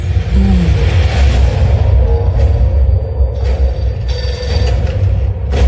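A telephone rings steadily and loudly, with a mechanical buzzing tone over a low rumbling background and no voices.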